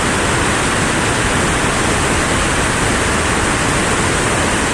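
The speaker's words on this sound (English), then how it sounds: "let's see what this angle of the falls, of the main waterfall looks like." The main waterfall at Victoria Falls, seen from the Zimbabwe side, roars as a dense, unbroken wash of rushing water, loud and steady throughout with no voices.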